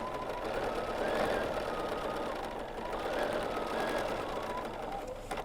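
A BERNINA sewing machine running steadily during free-motion quilting on placemats, a continuous close mechanical whir with fine rapid needle rhythm and slight swells in speed, no talk.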